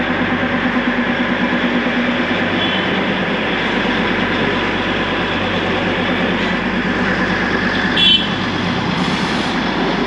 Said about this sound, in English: The train's coming, and I don't see a whole lot of parking here